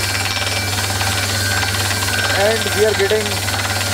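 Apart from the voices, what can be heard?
drilling rig drilling into the ground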